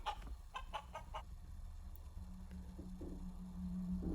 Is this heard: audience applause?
no